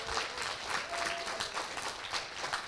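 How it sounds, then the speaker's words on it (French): Audience applause at the closing ceremony of the Code Game Jam 2025, honoring the coaches and jury; a fairly quiet, continuous patter of clapping that holds steady throughout, with a faint voice underneath. "Je pense qu'on peut les applaudir, les coachs et les jurys,"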